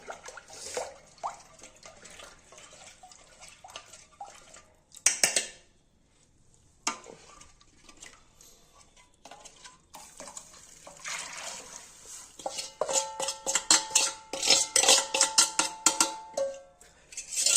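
Gram flour batter being stirred for kadhi: a utensil clinks and scrapes against a pot with wet liquid swishing, irregular and close, growing busier and louder toward the end with no talking.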